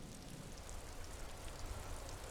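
Steady rain patters in the video game Disco Elysium, a soft, continuous hiss of falling drops with a low rumble beneath and no voices.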